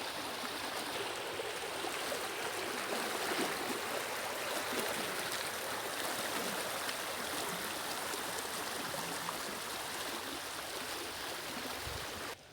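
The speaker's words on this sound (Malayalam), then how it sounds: "ഈ രണ്ട് ചെറിയ പോർഷനിൽ കൂടിയാണ് ആ വലിയ കണ്ടത്തുനിന്നുള്ള വെള്ളം പുറത്തേക്ക് വരണം" Rainwater streams out of a flooded paddy field through a narrow channel during the Palakkad monsoon, a continuous rushing, gurgling flow that stays steady and fairly close throughout.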